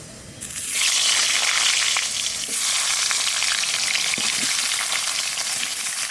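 A few potatoes dropped into hot oil for frying, setting off a sudden loud sizzle that rises quickly and holds as a steady close hiss with faint stirring sounds.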